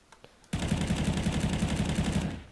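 Rapid automatic fire from an M4A1-S rifle in the video game CS:GO, a sustained, evenly paced burst of suppressed shots lasting about two seconds after a brief quiet lead-in, loud and close.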